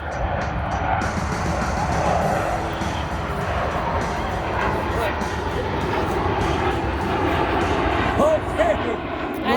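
At an outdoor air show, a jet-powered truck races a jet fighter, and a loud, sustained roar of jet engines fills the air over a crowd, with some faint chatter in the background.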